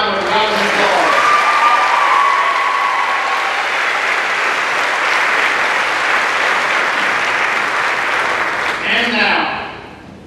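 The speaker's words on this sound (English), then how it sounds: "Let's give them one more round of applause." An audience applauding pageant candidates at the Hopkins County Dairy Festival, a loud, sustained round of clapping lasting about nine seconds before fading, with a brief spoken voice near the end.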